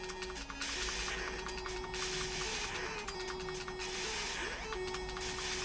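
Tinny, buzzy 8-bit effects from the NES game Ikari Warriors run continuously, with steady electronic tones and bursts of gunfire-like noise layered over a dense chiptune soundtrack.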